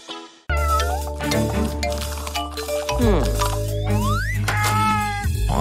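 A cat meowing repeatedly in a rescue scene, the calls set against busy cartoonish music and sound effects with rising and falling tones, loud and continuous throughout.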